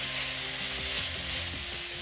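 Ginger, garlic and split green chillies sautéing in a pan for a Kerala-style chicken curry, a steady loud sizzle and crackle with faint stirring, and no voices.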